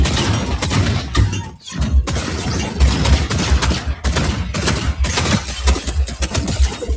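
Rapid gunfire from a long-range weapon in Fortnite gameplay, dense repeated shots in near-continuous bursts with a short pause, loud and close, mixed with game sounds.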